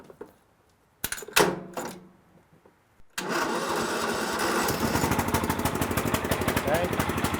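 A lawnmower engine fitted with a portable jump starter gives a couple of short cranking bursts, then catches and settles into a loud, continuous near running drone.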